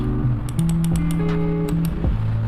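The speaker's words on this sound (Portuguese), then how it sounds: "Barulho do clique desse aqui e agora desse." Rapid clicks from Logitech K235 and Rapoo X1800S wireless keyboards come in a quick run of about eight crisp, close taps over a low steady electronic hum, with no talking.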